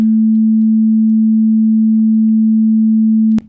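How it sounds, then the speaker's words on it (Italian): A pure 220 Hz sine wave tone holds steady and loud for about three and a half seconds, then cuts off abruptly, with no other sound. "ogni secondo quest'onda oscilla 220 volte"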